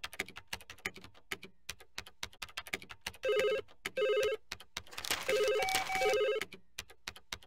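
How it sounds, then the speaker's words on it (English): An office telephone rings in the Bob the Builder PC video game, sounding in short repeated double bursts over busy clicking and tapping like keyboard typing, with a louder electronic ringtone swell near the end. "You could try answering the phone or checking the bulletin board first."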